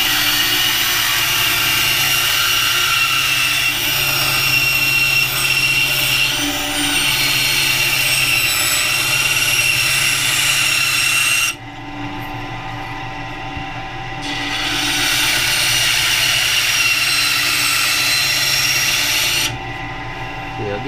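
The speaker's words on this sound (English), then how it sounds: "I'll get the rest on the sander" A power sander shapes Buck 110 knife scales, whirring loudly and steadily up close, cutting out briefly twice before starting up again.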